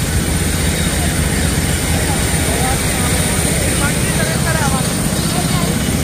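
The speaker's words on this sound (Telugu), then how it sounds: "ఇలా ఉంటుంది ఇంజన్." A SpiceJet airliner's jet engine on a Hyderabad to Delhi flight gives a steady, loud, continuous roar that fills the whole stretch, with faint voices in the background.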